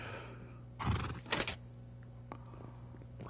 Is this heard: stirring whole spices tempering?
no